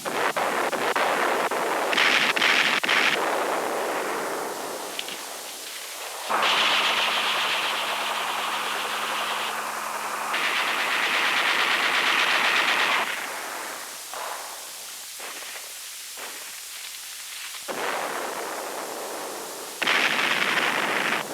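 Heavy naval gunfire supporting ground operations, with bursts of booming shots and rattling fire layered over a loud, noisy roar in an archival Cold War military recording.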